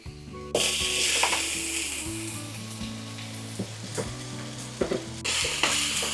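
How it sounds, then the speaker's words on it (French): Food simmers in a covered pan while being stirred often, a close sizzle with scraping strokes and occasional clinks of utensil against pan, underlaid by a low steady hum. "Je vais fermer et laisser mijoter 5 minutes. Pendant les 5 minutes, nous allons souvent remuer."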